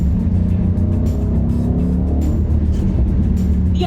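Audi SQ7 three-row crossover with a V8 accelerating, a loud steady low engine drone with road and tire roar, heard from inside the vehicle, continuous throughout.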